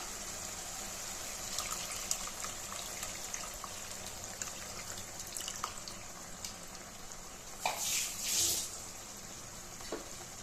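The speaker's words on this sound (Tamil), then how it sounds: "இப்போ புளி தண்ணி சேர்த்துக்கலாம்" Tamarind water trickles and splashes steadily into a pan of fish curry, a quiet continuous pour with a brief louder gush near the end.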